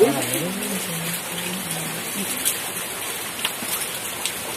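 Steady rain at a base camp falls as a dense, even hiss with scattered louder drops, while a voice murmurs briefly at the start.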